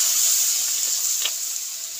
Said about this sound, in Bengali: মশলাটা ভালো করে ভেজে নেব